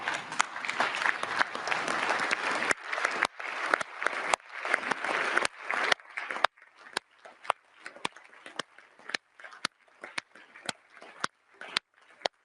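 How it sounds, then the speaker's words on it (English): Audience at the Council of Europe applauding for Ukrainian colleagues, starting as dense sustained clapping that thins after about six seconds into scattered individual claps fading out. "please stand and applaud for our Ukrainian colleagues"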